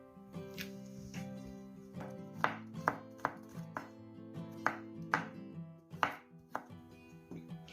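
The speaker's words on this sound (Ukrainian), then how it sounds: "подрібнемо часничок" A knife chops garlic on a board in a string of sharp, irregular taps, close up, with a steady low hum underneath and no talking.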